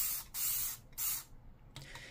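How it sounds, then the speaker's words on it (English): Dawn Ultra Platinum Powerwash dish spray bottle misting over dishes, three quick hissing sprays in a row, close and crisp, followed by a softer fourth burst. "If you spray from far away, it's easy to coat stuff."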